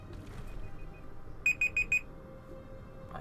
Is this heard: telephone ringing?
no